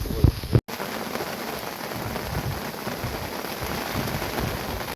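Steady rain pours onto an umbrella by a lakeside at night, with wind adding a dense, continuous hiss; a couple of close knocks come at the start, then a brief dropout, and the downpour carries on evenly.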